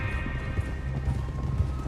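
Horse hooves clip-clopping steadily in Red Dead Redemption 2, a rhythmic run of close, moderately loud hoofbeats over a continuous low rumble of gameplay sound.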